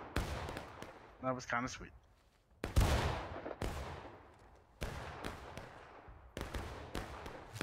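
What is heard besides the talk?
musket volley fire in War of Rights video game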